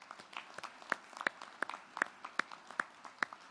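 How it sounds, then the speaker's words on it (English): Applause at an awards event, heard as scattered, fairly quiet clapping from an audience, with distinct individual claps rather than a dense roar. "So let's give another round of applause to these members."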